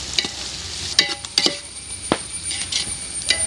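Onions stirred in a cooking pan while preparing masala for a home-made chicken biryani, with a few sharp scrapes and clinks of a utensil over a soft sizzle, close and alone.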